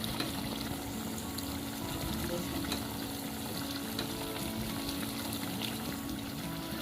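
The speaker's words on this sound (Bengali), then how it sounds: "5 মিনিট পর ঢাকনা সরিয়ে মাংসগুলোকে নেড়ে দেব" Pigeon meat being stirred in a pan, a dense steady sizzle close by with soft scraping movements throughout, no talking.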